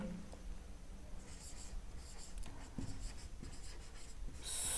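Pen scratching out a Class 10 polynomial maths solution on paper, faint close strokes and short scrapes in quiet room tone with no talk.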